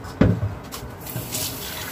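Water poured from a ladle into a cooking pot, a brief close splash and gurgle near the start followed by a softer trickle and faint kitchen noise.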